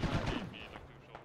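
Gunfire in a military shooter game, a burst of several sharp shots packed into the first half second, then fading into a low rumble with faint later pops.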